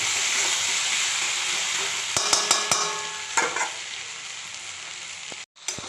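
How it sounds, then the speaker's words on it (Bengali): Onions frying in a pan give a steady, close sizzle, broken partway by a cluster of clinks and scrapes from stirring, then a brief drop before the hiss resumes, no talk. "তো পেঁয়াজটা ভাজা চলছে"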